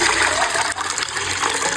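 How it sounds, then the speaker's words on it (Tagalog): Fresh coconut milk is squeezed by hand from grated coconut for biko, a wet, gushing splash of liquid pouring and dripping up close, steady and fairly loud, with no talk. "Kinahanglan ispiso jud kaayo nga gata ang atong ma-squeeze ani."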